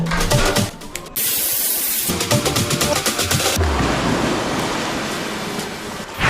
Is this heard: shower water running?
yes